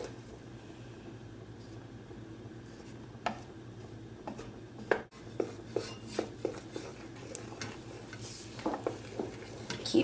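A spoon stirs butter and cocoa melting together in a pan for brigadeiro, giving soft scraping and irregular clinks against the metal over a steady low hum, with a sharper knock near the middle.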